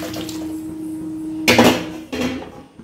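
Boiled broth splashes into a hot pan of turmeric and slit green chilies, a loud hissing rush for about half a second, then a second, shorter pour follows before fading.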